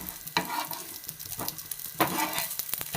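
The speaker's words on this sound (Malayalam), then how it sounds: "ഇതൊരു നോൺ സ്റ്റിക്കിൻ്റെ പാൻ വെച്ചു. എണ്ണ ഒഴിച്ച് തിരിച്ചും മറിച്ചിട്ട് കൊടുക്കുക." Fenugreek leaves fry in oil in a non-stick pan, with a close, steady sizzle and intermittent sharp scrapes and stirring knocks from a utensil and no voices.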